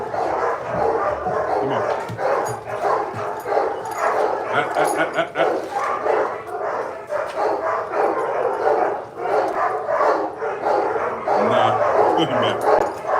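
Several dogs barking and yipping indoors, continuous and overlapping at close range, with occasional whimpers and people talking over the noise.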